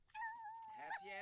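A dog in The Sims 4 whimpers and whines, a thin, wavering high-pitched moan rising at the end, quiet and brief.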